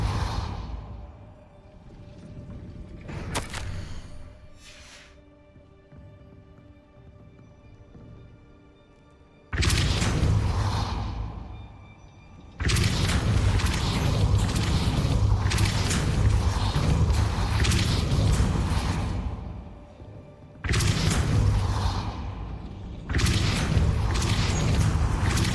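A Depulso spell in Hogwarts Legacy forcing a gate, loud whooshing magic bursts followed by long heavy rumbling grinding stretches, separated by quieter gaps, close and powerful.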